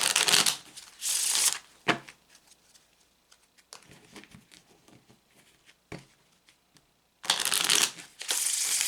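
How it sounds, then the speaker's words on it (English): A deck of tarot cards being shuffled by hand in several close, crisp riffling bursts separated by quieter handling and tapping, with no talk. "we're going to shuffle the cards"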